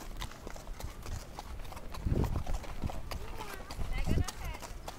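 Horse hooves clip-clopping steadily during a ride, close and fairly loud, with people talking throughout.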